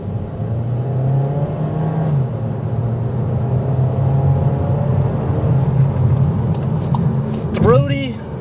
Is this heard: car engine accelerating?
yes